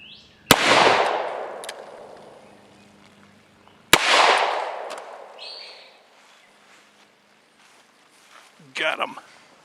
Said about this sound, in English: let's see if we can make those 2-liter bottles jump with the Colt Official Police